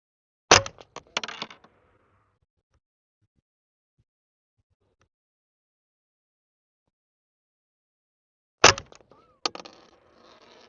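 Sharp cracks from a Mossberg 702 Plinkster rifle fired at a 50-yard target: a quick cluster of three or four shots, a long silent pause, then a second sharper pair with a short ringing tail.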